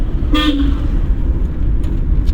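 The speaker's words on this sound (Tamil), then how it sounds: "இந்த மாதிரி கட் ரோடுகளில் வரும்போது ஹாரன் கம்பல்சரி அடிக்கணும்" A single short car horn toot sounds over a low, steady road rumble from inside a moving vehicle, on a narrow cut road during a driving lesson.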